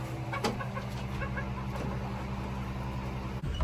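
Chickens cluck and murmur steadily at close range, a rooster among them, with a continuous low hum underneath.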